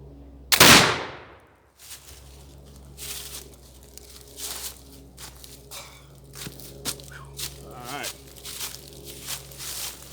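One sharp, loud rifle shot from a dirty squirrel rifle aimed at a target cracks out near the start and fades quickly, followed by quieter rustling, shuffling and handling noises.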